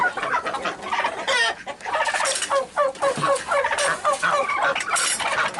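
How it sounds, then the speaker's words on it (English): A flock of homestead poultry being let out calls continuously, hens clucking and a turkey gobbling in overlapping bursts, close by with steady outdoor background. "So here we are to release the poultry."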